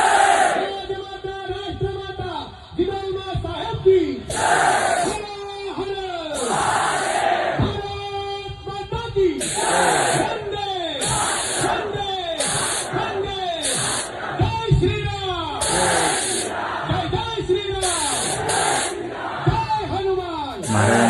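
A college annual day crowd in Pune chants slogans hailing Chhatrapati Shivaji Maharaj and Sambhaji Maharaj, loud massed voices in repeated rhythmic call-and-response bursts that carry on throughout.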